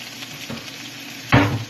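Carrots, celery, green pepper, onion and bok choy sizzle softly in a pan for a tofu stir fry, then a louder burst of frying follows stirring, close and clear.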